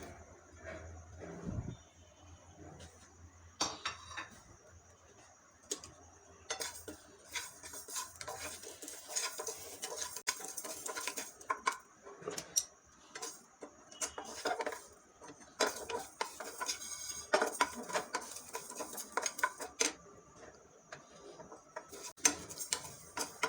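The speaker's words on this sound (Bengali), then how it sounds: "কিছুটা গোলমরিচ সরিষা গোটা সরিষা পাঁচফোড়ন গোটা ধনিয়া গোটা জিরা এগুলি এখন আমি সবগুলি টেলে নেব" Whole spices, pepper, mustard seeds, panch phoron, coriander and cumin, dry-roasting in a pan for beef pickle: quiet, irregular ticking and rattling as the seeds are stirred and scraped against the metal.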